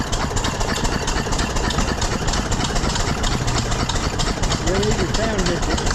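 An antique side-shaft gas engine runs steadily nearby at a county fair engine display, with a rhythmic, thumping chug, while people talk over it.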